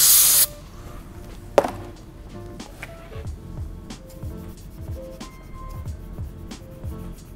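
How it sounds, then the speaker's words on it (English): A short burst of aerosol brake cleaner hisses onto a microfiber cloth at the start, then quieter scrubbing of an oil pan sealing surface and handling noises follow in a workshop. "Just gonna spray the brake cleaner on the microfiber and scrub down the sealing surface."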